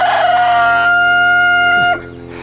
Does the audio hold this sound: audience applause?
no